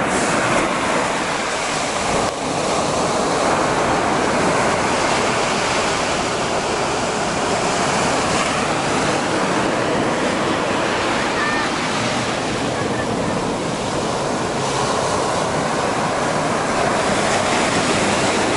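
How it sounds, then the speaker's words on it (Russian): Sea waves roll onto a beach on a windy shore, a constant loud rushing wash of surf mixed with wind buffeting the microphone, with a voice briefly under the noise. "И вот оно море."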